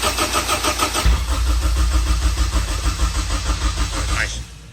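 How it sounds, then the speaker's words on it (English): A new supercharged Honda K24 engine cranks on the starter with a charger connected, grinding in a steady rapid rhythm for several seconds, loud and close, before stopping near the end. "we've got the charger on just so we can crank it for a little bit longer to build some oil pressure"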